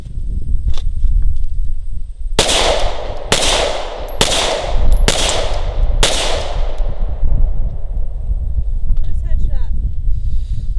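Five sharp, loud shots from a Glock 17 Gen 5 pistol fire in quick, even succession outdoors, each cracking and ringing out, followed by quieter handling noises and faint breezy background.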